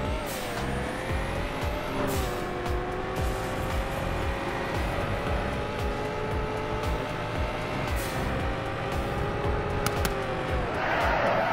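A car in a Roblox driving game revs and holds a steady engine whine that rises and falls with shifts and swerves, loud and continuous, with light tire noise near the end.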